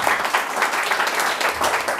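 Steady applause from a church congregation, a dense wash of many hands clapping continuously for about two seconds, fairly close and with no talk over it.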